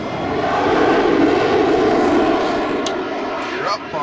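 A model jet engine in an RC flight simulator, flying a Hawk trainer, whines steadily and loudly throughout, with a brief faint click near the end.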